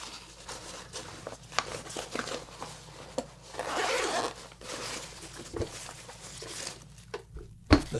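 A zipper on a dark bag for loading photographic film is pulled in short scratchy runs, with rustling and handling noises between strokes, close and fairly quiet.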